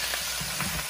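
Beef sizzles in hot oil while being stirred for a Haitian beef ragout with okra, a dense, continuous crackle close to the microphone with soft stirring scrapes through it and no talk.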